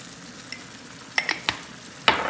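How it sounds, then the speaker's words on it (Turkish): A cream sauce for turmeric pasta, seasoned with dried mint, bubbles in a pan, giving a soft low simmer broken by a few sharp clinks and scraping stirs. "Kremamız biraz koyulaşana kadar bu şekilde kaynatalım."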